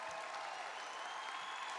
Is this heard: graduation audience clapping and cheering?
yes